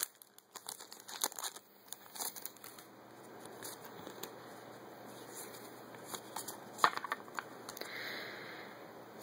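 A Pokemon card booster pack wrapper is torn and crinkled open close up, with a busy run of soft foil crackles and rustles at low volume.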